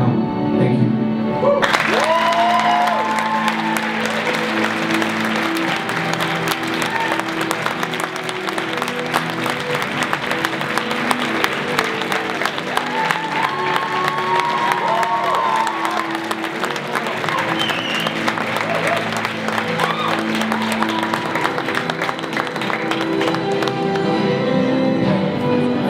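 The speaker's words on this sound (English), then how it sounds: "another round of applause for Igor" Audience applause follows a spoken word poem, beginning abruptly and holding as a loud, dense, continuous clapping from a sizable crowd, with faint murmurs and cheers mixed in.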